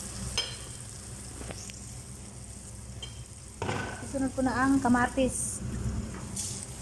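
Tomatoes hit a sizzling frying pan where ingredients have been browning for dinengdeng, a steady hiss of frying with a louder crackling swell as they go in, while someone talks over it.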